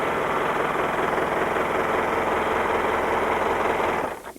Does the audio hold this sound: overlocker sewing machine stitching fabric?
yes